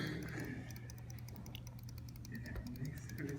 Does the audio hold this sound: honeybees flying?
no